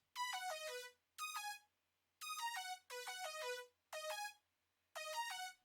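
A bright synth lead in a hyperpop beat plays short, cheerful descending phrases in bursts with brief pauses between them, clear and upfront with no voices.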